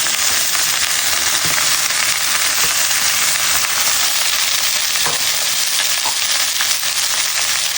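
Chopped vegetables for homemade chicken chow mein with hand-made flour noodles sizzle loudly in a hot pan, a dense, continuous close frying hiss with occasional stirring clicks, no talk.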